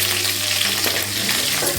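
Mustard seeds, dried red chillies and cut green chillies crackle and sizzle in hot oil, a dense, continuous frying hiss, close and steady throughout.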